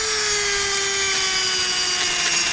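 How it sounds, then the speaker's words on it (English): A Dremel rotary tool cuts during a Country Coach RV heat exchanger blower motor replacement, holding a loud, steady high whine whose pitch slowly sags under load. "I got the Dremel I use for quite a few odds and ends things"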